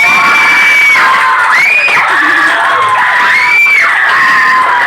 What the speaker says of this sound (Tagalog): Malalaman natin kung mananalo sa pamamagitan ng palakpak at sigawan.